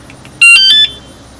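A bicycle alarm sounds a single loud electronic arming tone, a brief bright warble of about half a second that stands alone over low background hiss.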